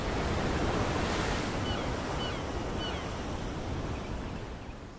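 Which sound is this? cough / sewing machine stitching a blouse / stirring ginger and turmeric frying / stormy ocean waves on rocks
stormy ocean waves on rocks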